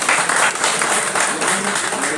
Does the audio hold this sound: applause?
yes